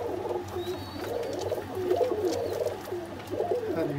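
A recaptured runaway bird coos close by in repeated soft, throaty phrases over a steady low background hum.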